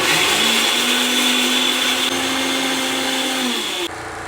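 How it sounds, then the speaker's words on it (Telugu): An electric mixer grinder whirs steadily as it grinds onions and cumin, a loud, even motor drone close by that cuts off abruptly near the end. "ఆనియన్స్, జీలకర్ర మిక్సీ పట్టుకొస్తా."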